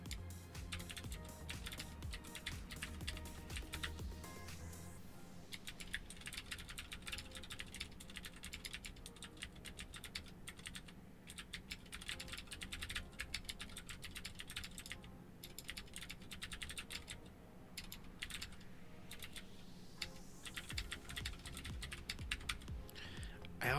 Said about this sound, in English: I'm going from typing a lot of my MacBook to my split keyboard, which is a little jarring right now.